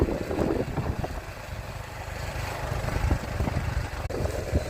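A vehicle carries riders out toward farm fields, its engine a steady low rumble mixed with wind buffeting the microphone, continuous and fairly loud.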